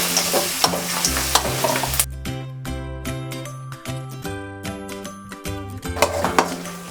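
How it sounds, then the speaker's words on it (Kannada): Chopped onions frying in a pan for khara avalakki, with close sizzling and stirring, light clinks of a spoon against the pan, and a stretch of sustained tonal background music in the middle, no talk. "ಈರುಳ್ಳಿ ಕಲರ್ ಚೇಂಜ್ ಆಗೋವರೆಗೂ ಫ್ರೈ ಮಾಡ್ಕೋಬೇಕು."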